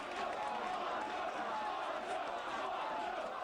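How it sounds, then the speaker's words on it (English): A wrestling crowd cheering in a steady, dense roar that holds evenly from start to finish, with no clear breaks. "the fans are cheering for him"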